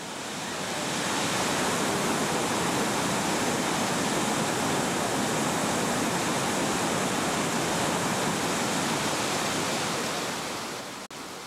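Skookumchuck river wave rapids in British Columbia roar as a steady, dense rush of whitewater, loud and continuous throughout, with no voices.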